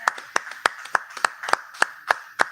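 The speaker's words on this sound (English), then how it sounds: "Let's have a round of applause for Justin over here." A small group claps hands for about two and a half seconds, the sharp claps distinct, irregular and fairly close, with no talk.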